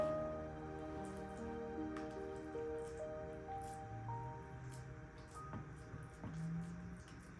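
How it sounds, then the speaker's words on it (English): A wooden spoon presses and levels a mixture into a baking pan, producing soft, quiet squishing and dabbing sounds against faint sustained background tones. "I'm just using my wooden spoon to level it out and press it down into the pan."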